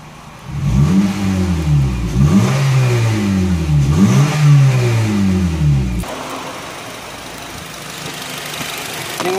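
A fourth-generation Honda CR-V with an ARMA remote-controlled side exhaust valve system revs loudly, three rising and falling throttle blips in succession before settling to a steady idle, with no voices.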